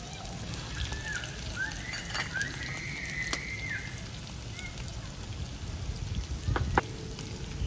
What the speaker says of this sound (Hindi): अच्छी तरह मिक्स करके भून लेंगे